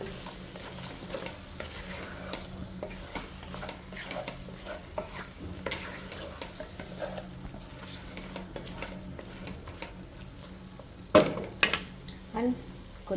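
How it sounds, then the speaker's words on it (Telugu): Ginger garlic paste frying in a pan for chicken biryani, with a low steady sizzle, repeated stirring and clinks of a spoon on metal, louder knocks coming near the end. "సో ఇప్పుడు ఈ జింజర్ గార్లిక్ పేస్ట్ అనేది పచ్చివాసన పోయేంత వరకు వేయించుకోవాలి."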